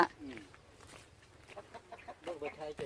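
Chickens cluck in a rural village, faint and scattered over a noisy outdoor background.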